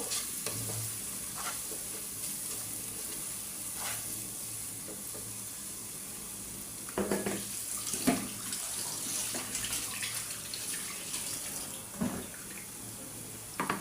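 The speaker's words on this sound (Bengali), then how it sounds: "এখন আমি হলুদ মরিচ ধনিয়া জিরা সব গুঁড়া গুঁড়া একসাথে দিয়ে দিলাম মশলাগুলো আর একটু ভালো করে বেজে নিব" Ground turmeric, chili, coriander and cumin fry in oil for a goat curry, a quiet continuous sizzle broken by irregular scraping and knocking as a spoon stirs them. No talking is heard.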